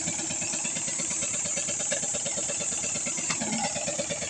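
A motorized water pump used to draw water for irrigation runs close by, a loud, steady rhythmic engine chug with a faint mechanical knock, continuous throughout.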